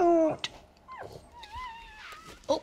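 A newborn Chihuahua puppy, first of its litter, cries in thin high whimpers and squeaks, several short wavering calls close by over about three seconds.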